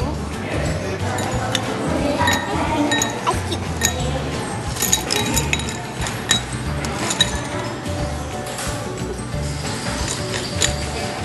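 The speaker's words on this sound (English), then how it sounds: "add some ice cube." Ice cubes clink into a glass holding raspberry syrup as a mocktail is assembled, a run of sharp bright ticks and chinks scattered over steady background noise, with speech partly overlapping.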